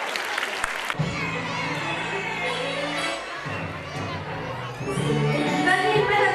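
Crowd noise at a school annual function: a loud wash of cheering, chatter and children shouting, swelling toward the end, with scattered clapping mixed in and no single announcer voice over it.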